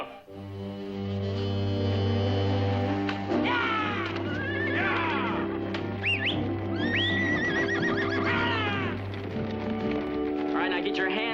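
Several horses whinny and neigh in high, wavering calls over a steady low hum, with brief hoof clatter as they are spooked and scatter.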